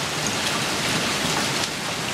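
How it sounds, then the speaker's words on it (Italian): Hail pelting down during a summer storm at the seaside, a dense, steady hiss of hard drops drumming on surfaces, loud and close, with no voices. "E con oggi sono 4 giorni di fila che grandina."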